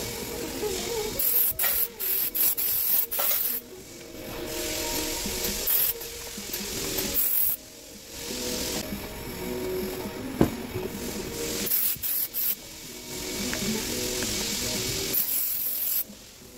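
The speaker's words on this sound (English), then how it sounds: "we're gonna have to spray it down with some brake cleaner. Wipe down any imperfections" Brake cleaner sprayed onto a new front brake rotor for a 2015-2022 Lexus RC350 F-Sport, then wiped down: repeated hissing aerosol bursts alternating with rubbing and cloth scrubbing, close up, with short gaps between sprays.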